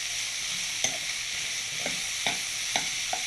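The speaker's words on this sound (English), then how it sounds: "Saute there for a minute." Vegetables sauteing in a pan over medium heat after a pinch of salt, a steady close sizzle with a few soft stirring scrapes and clicks spaced through it, no voices.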